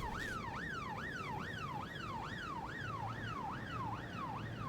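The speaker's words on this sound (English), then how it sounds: "Police car just started going as soon as my sirens hit." A police car siren from the video game This Is The Police wails in steady, rapid up-and-down sweeps, loud and continuous with no other sounds.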